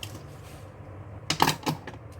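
Scissors snipping friendship band thread close up: a quiet stretch, then two or three quick, sharp cuts near the end.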